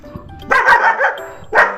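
A dog lets out two quick, close barks, the first stretched into a short yelping burst and the second clipped, loud over a quiet background.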